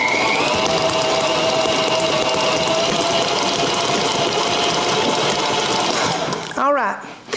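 A stand mixer with a dough hook kneads yeast dough for dinner rolls, its motor whirring loud and steady for several seconds before winding down and stopping near the end.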